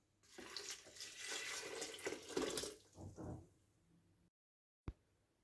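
Half a liter of water poured into a food processor holding magenta cherries, a continuous rushing pour for about four seconds that tapers off, followed by a brief silence and a single small knock.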